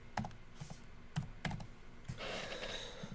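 Computer keyboard typing at a trading desk, a few scattered key clicks and taps, faint and close, followed by a brief hissy rustle at the end.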